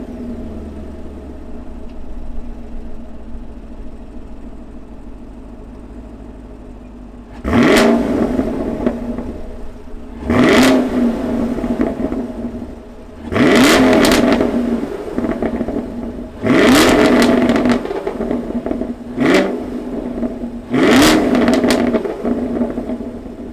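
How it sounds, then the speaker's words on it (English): A 2021 Chevrolet Camaro LT1 with a V8 engine starts up, then gives six sharp, loud revs in a row, each one rising and falling back to a low idle, with no talking. "let's fire up this V8 Camaro and hear what it sounds like"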